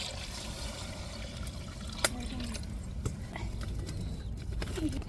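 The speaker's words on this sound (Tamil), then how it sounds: "அரிசி எடுத்த அளவுக்கு அந்த அளவுக்கு தண்ணியை சேர்த்துக்கிடுவோம்" Water splashes and trickles into a cooking pot of rice, with a few sharp clinks and knocks of utensils against metal, fairly quiet and close.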